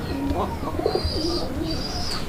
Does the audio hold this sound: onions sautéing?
no